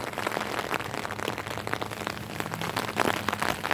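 Soft, steady rain falls outdoors near a green walking path, a continuous even patter heard alone with no voices.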